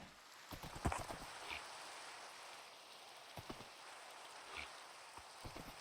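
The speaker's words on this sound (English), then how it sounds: "Why is it always raining when it's dark?" Rain patters in TerraFirmaGreg at night, a continuous soft hiss with scattered close clicking drops and light tapping bursts, no voices.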